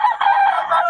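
A rooster crows loudly and close by, one sustained crow filling the whole moment with no talking.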